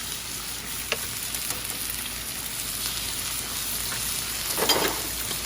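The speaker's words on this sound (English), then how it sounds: "Stir fry that really well, guys. The flame can go up really high." Drunken noodles, or pad kee mao, stir-fried on a very high flame, giving a loud, continuous close sizzle with a few sharp scrapes and knocks of the utensil in the pan.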